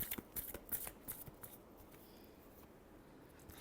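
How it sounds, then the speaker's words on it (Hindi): Tarot cards being shuffled close up, a rapid fluttering riffle of papery taps that is busiest at first and then thins into softer rustling, quiet and alone with no talking. "last shuffle,"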